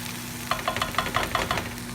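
Zucchini and yellow squash frying in a skillet, with a string of short popping crackles in quick succession over a low steady hiss at close range.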